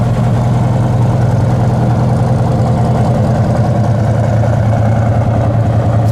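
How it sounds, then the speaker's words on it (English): A restored 1969 Chevelle SS with a V8 idles steadily and loudly up close, a deep, even rumble that stays smooth with no misses. "It's been sitting here idling for 5, 6, 7 minutes while we're doing this video, and this motor doesn't miss a beat"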